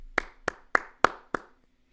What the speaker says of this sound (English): And that's not a sarcastic clap